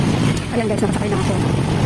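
Steady engine rumble and road noise fill the cabin of a moving passenger vehicle on a trip into town, a constant low drone with someone speaking over it.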